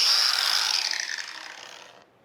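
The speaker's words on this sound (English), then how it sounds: "And we'll try our angle grinder." A cordless angle grinder running on an aftermarket CEENR battery gives a bright, high whine that spins down and fades over about two seconds before stopping.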